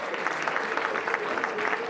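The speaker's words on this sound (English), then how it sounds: "Ladies and gentlemen, please give Mrs. Adleem Hanif a big round of applause." A crowd at a 2014 newspaper year-end party claps for a host walking up to the stage, a brief, steady, close patter of applause with a voice faintly mixed in.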